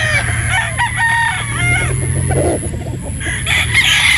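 A gamefowl rooster, a white sweater-cross broodstag, crows loudly close by, and clucks and other fowl sounds come from around it in the yard.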